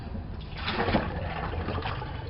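Water runs steadily from a tap as chicken quarters are rinsed, a close, even splashing rush with slight surges in the middle.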